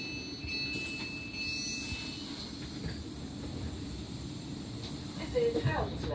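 A South Western Railway train standing at Hounslow station, a low steady rumble and hiss running throughout, with a faint squeal near the end.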